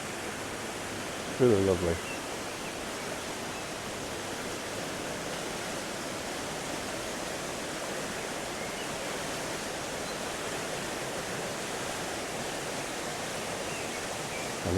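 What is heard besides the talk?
fast-running stream water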